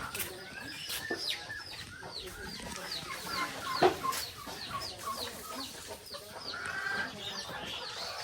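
Chickens cluck repeatedly at a chicken farm, a busy mix of short near and farther calls over a soft background, with one louder squawk partway through.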